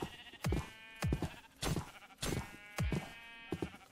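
Sheep in RLCraft, a Minecraft modpack, bleat in a run of five or six short, nasal calls spaced at roughly even intervals, each clear and fairly close.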